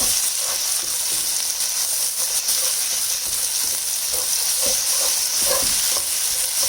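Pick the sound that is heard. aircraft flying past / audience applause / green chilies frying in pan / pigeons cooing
green chilies frying in pan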